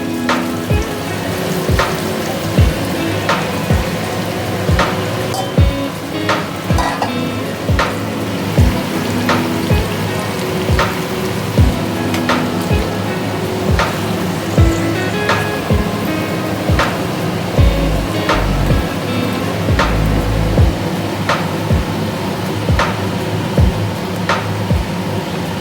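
Chicken pieces fry in thick masala for murg malai, a loud continuous sizzle with regular clacks of a spoon stirring against the pan, close up and without talk.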